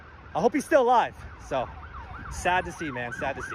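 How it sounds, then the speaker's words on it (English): Police sirens wail at a live scene, their rising and falling tones faint beneath a man's close, sorrowful speech. "You can hear the police sirens going off crazy."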